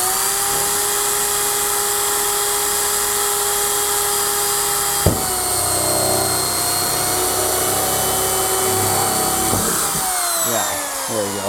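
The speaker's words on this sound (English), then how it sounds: "what I'll do is just drill that hole." Power drill boring an overflow hole, a loud steady high whine that drops in pitch as it bites around the midpoint, then grinds unevenly and speeds up again near the end, close and without talk.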